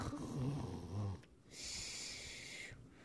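A toy figure voice does a loud, rasping imitation of snoring, first a low rattling inhale and then a wheezy, hissing exhale, with a brief pause between the two.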